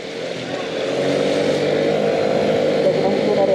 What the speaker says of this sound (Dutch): Kijk, hier mag je wel met de scooter.